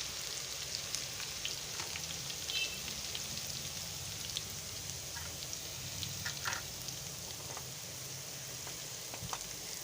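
Crushed garlic is frying in ghee for a dal tadka, making a soft, continuous sizzle and crackle with scattered pops, fairly quiet and close.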